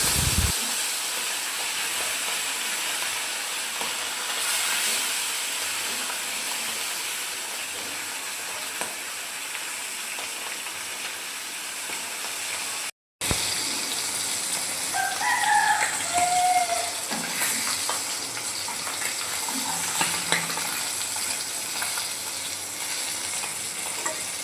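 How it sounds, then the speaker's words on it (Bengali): Fish frying one by one in hot oil in a home kitchen, a steady sizzle running throughout with a brief dropout midway, while faint bird calls sound in the background. "তেল গরম হয়ে গেছে। এখন আমি সব মাছগুলো এক এক করে ভেজে নেব আস্তে আস্তে।"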